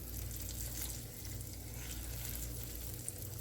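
Coated chicken pieces sizzle steadily in a frying pan, a dense, continuous hiss of hot oil that runs evenly throughout without pause.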